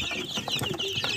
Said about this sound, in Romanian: Hai să vă arătăm o puicuță.